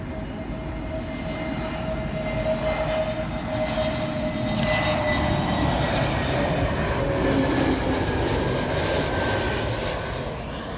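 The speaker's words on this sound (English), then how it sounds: "British Airways A320neo, arriving in from Inverness." A British Airways Airbus A320neo jet arrives at Heathrow Airport with a broad, steady engine roar and a whining tone. The roar swells through the middle and eases slightly at the end, with no talk over it.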